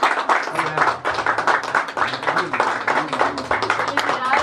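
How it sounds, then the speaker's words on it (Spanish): A room full of people applauds with uneven clapping, mixed with voices and cheering talk over it. "Un aplauso, eso."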